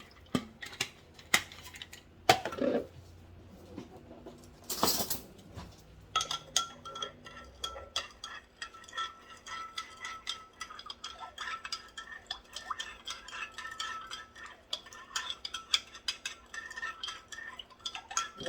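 A spoon stirs two tablespoons of sugar into water, giving light scattered clinks and scrapes against a container, with a few louder knocks early on and then steady, quiet ticking contact throughout.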